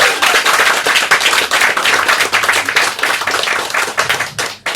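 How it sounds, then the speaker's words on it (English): A comedy-show audience at a fringe festival claps loudly and densely for the comedians, a close, sustained burst of many hands that thins out and ends abruptly near the finish. "please give another round of applause for each of our fabulous comedians today"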